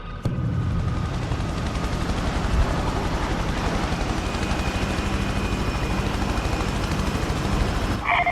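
A heavy military helicopter in the Prototype video game thumps with steady rapid rotor chop over a dense engine roar, loud and continuous, ending with a brief sharp burst near the end.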